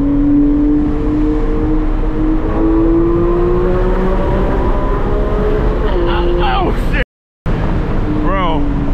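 Porsche 911 GT3 track car with a license plate, heard from inside while driving: a loud, continuous engine note whose pitch climbs steadily as it accelerates, then drops for a shift, under excited talk from the occupants, with a brief dropout near the end.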